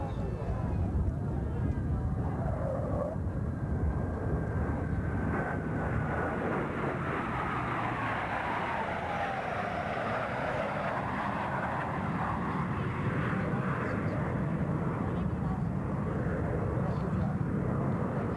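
Military jet aircraft roaring through air show maneuvers, including a low carrier-landing configuration pass, a steady broad engine rumble with a slowly sweeping pitch, while an announcer talks over it.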